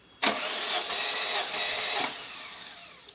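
Starter cranking a 1989 Ferrari Mondial t engine during a compression test, a steady, busy mechanical whir that kicks in abruptly, holds for about two seconds, then drops away, close and fairly loud.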